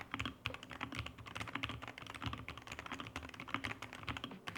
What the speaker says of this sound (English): The keyboard typing experience is also phenomenal.